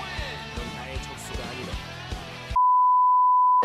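A single long, loud pure censor beep tone cuts in after a stretch of busy game music and effects, holding steady for about a second before ending.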